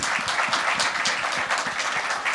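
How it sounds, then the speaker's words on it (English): A conference audience applauds a panel of speakers, producing close, loud and dense rhythmic clapping that goes on without pause for the whole stretch. "round of applause."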